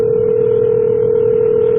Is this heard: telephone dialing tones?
yes